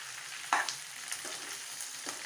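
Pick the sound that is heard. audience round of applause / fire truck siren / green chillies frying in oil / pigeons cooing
green chillies frying in oil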